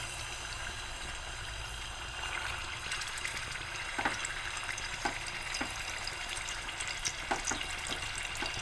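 Chicken pieces frying in hot oil in a pan, a steady broadband sizzle with a few sharper crackles and pops scattered through, close and fairly even, no talking.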